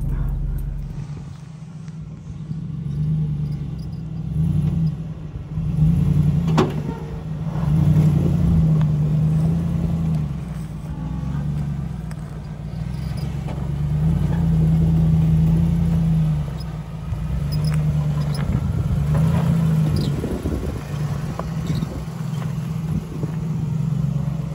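A 2007 Lexus GX 470 rolls down a hill with a low, steady engine drone and faint rattles and bumps from the cabin, the hum swelling and easing slightly as it descends.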